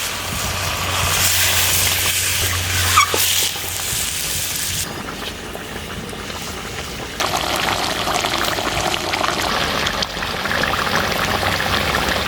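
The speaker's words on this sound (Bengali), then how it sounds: "আমি এখন জল ঢেলে দিচ্ছি।" Water is poured into a pan of fried meat, potatoes, tomato and cumin-chilli paste, giving a loud hissing sizzle and bubbling that changes character midway, close and continuous with no talk.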